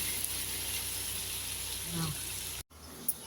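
Ginger sautés in a pan for a Tamil tomato rice made for twenty people, giving a steady close hiss and sizzle that cuts off abruptly near the end.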